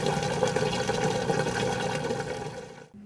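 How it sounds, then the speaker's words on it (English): A top-load washer drains its wash water out through the drain hose at the back, giving a steady loud rushing, pumping whoosh that cuts off abruptly near the end, followed by a quieter hum. "The wash water will empty through the drain hose at the back of the washer. Let's listen to normal drain sounds."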